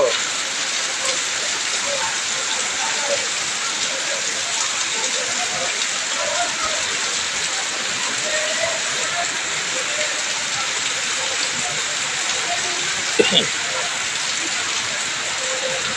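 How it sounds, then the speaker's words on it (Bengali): Steady, dense thunderstorm rainfall hisses evenly throughout outside a house with water pooling in front, with a few faint voices in the background and one brief clunk near the end. "দেখুন বৃষ্টি বৃষ্টি বৃষ্টি, ভগবানের সৃষ্টি।"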